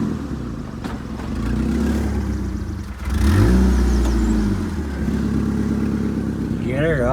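A Ford F150 EcoBoost running an MBRP exhaust revs hard while reversing, its loud engine note rising and falling in surges close by, with a deeper swell midway and people talking over it.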